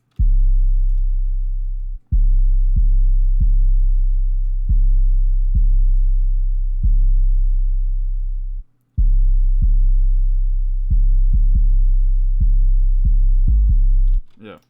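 A deep, sustained 808 bass booms alongside punchy kick drums in an FL Studio beat, long low tones retriggered in a steady rhythm with sharp kick attacks, loud and alone.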